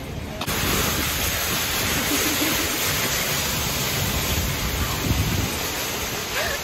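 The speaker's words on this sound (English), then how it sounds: "It's a rainy day." Steady rain falls on a rainy day outside a Costco store, a dense, even hiss with no voices and no breaks.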